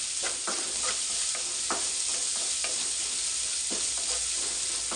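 Onions and other ingredients fry with salt in a pan for a horse gram curry, a constant close sizzle broken by repeated scraping strokes of a stirring spoon.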